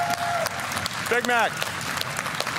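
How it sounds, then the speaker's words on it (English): Loud crowd applauding throughout at a Clash of Clans livestream event, a dense steady clatter of clapping and cheering under a voice speaking briefly. "the crowd is so loud, he can't hear me talking to him"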